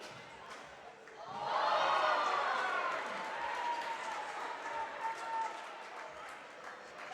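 Crowd cheering at a pro pickleball semi-final in Melbourne, a roar of voices and clapping swelling up, then easing back into lower crowd noise, with a commentator talking over it.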